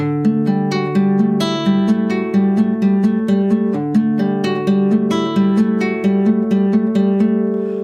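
A fingerpicked guitar melody in standard tuning, notes plucked in a steady flowing rhythm with ringing bass strings underneath, clear and close.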